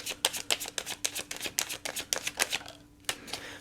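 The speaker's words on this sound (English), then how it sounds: "I'll get you one more because one of my shuffles was a little kludgy" Tarot cards being shuffled at close range, a quick run of crisp riffling bursts in steady rhythm, pausing briefly near the end before one more riffle; no talking.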